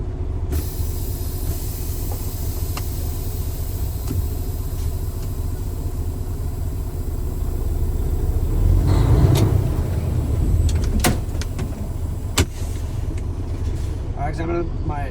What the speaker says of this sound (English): I'm going to put it in drive, and I'm going to drive 5 miles per hour forward, and I'm going to stop.